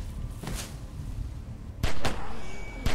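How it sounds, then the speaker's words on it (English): A few sharp shots ring out in The Walking Dead game, two close together and one near the end, sounding loud and close over low ambient rumble. "We don't need to be shooting here."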